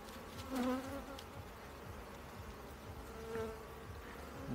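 Honey bees buzzing steadily around an opened hive during the first spring inspection, with the release of queens from isolation cages; a dense, close insect drone with a few louder passes near the microphone, and no talk.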